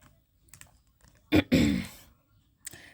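Tarot cards being shuffled: a quiet, brief riffle of quick flicking clicks in the middle, with faint taps before and after in an otherwise still room.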